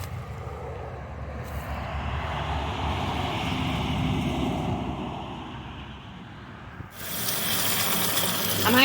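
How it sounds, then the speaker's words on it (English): Tap water runs steadily into a sink while freshly harvested dandelions are rinsed, a continuous gushing wash that briefly dips and then surges louder near the end. "I'm actually just going to rinse these in the sink"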